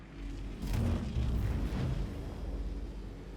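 An EMP pulse goes off in the Star Citizen space game during a fight with a Mustang ship: a deep, rumbling boom swells and holds for a few seconds over a steady low engine drone, loud and close, with no talking.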